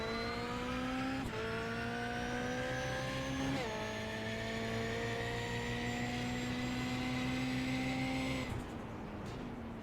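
A race car engine in the iRacing sim at Motegi West during a touring car championship, holding a loud steady whine broken by several sharp downshifts as the pitch drops, with no talk over it.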